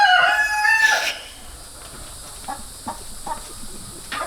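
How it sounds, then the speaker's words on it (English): A rooster crows loudly and close by in a single drawn-out call with harmonic tones, followed by a few soft clucks and rustling in a quiet farmyard where goats are kept. "The rooster's getting ready to crow again."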